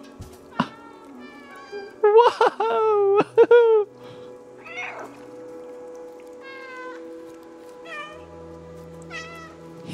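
Repeated cat meows from a cat character in the video game Stray, several short calls spread across the stretch, with a person's brief exclamation and game sounds around them.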